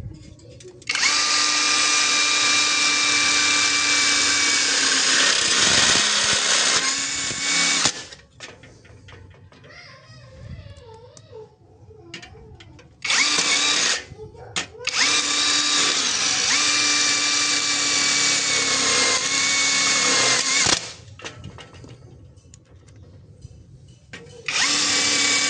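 A compact DeWalt DWE cordless impact wrench runs in loud sustained bursts, stopping and restarting several times with brief hammering rattles between runs; close and dominant, no talking.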